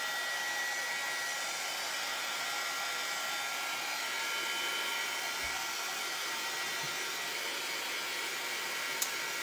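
A hair dryer blows steadily on a surface to dry it before taping, a constant, close whooshing hum that runs unbroken throughout with no talk.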